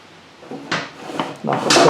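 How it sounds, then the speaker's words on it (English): Objects clatter and thump on a workbench table during repair of a Homelite string trimmer, with three or four separate knocks of hard items on wood, close and fairly loud. "Knock the stuff all over the table"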